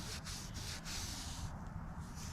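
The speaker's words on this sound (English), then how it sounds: "It's just going to take a little bit of scrubbing right there." A rag soaked in reducer scrubbing a zinc-coated part from a 1955 car, a steady close rubbing hiss with a few quick strokes, heard alone.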